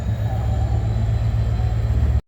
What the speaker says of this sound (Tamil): கொழும்புக்கோட்டை ரயில்வே ஸ்டேஷன்